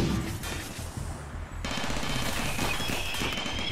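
An automated turret in RimWorld fires on a mechanoid raid: dense, continuous rapid gunfire with a steady roar that grows louder and fuller partway through, with no talk.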